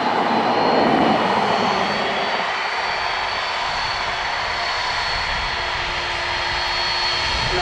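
Jet airliner engines roaring during takeoff at Dublin Airport: a loud, sustained roar that surges early, then settles into a steady whine with a constant tone, and no voices.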